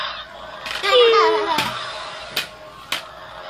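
Chickens in a backyard coop give short, squawking clucks, with sharp knocks and a voice mixed in close by.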